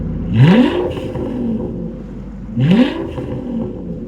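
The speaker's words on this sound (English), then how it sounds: "Let's do a rev test. Let's start with the Maserati. And now the Aston Martin." Maserati and Aston Martin engines fitted with X-pipe exhausts rev in turn, two sharp rising blips about two seconds apart, each settling back to a loud rumbling idle.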